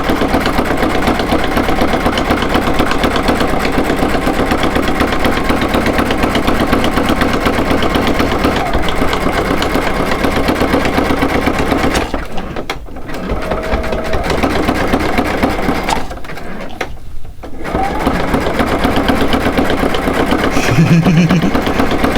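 Sewing machine stitching fabric pieces together along a center guideline, a steady loud whirring drone that runs almost continuously, with two brief dips where the stitching slows or pauses.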